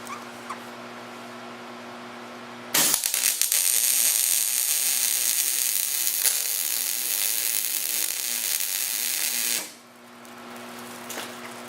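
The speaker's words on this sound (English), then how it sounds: "I use a pair of vice grips, kind of hold it over it, and then just weld her up." Welding onto a stuck LS exhaust bolt held with vise grips: a loud, continuous crackling buzz starts abruptly, runs steadily for about seven seconds, then stops, with a quieter hum before and after.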